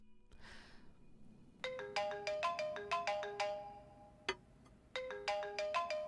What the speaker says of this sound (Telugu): ఇంటి నుంచి ఫోన్ వస్తోంది.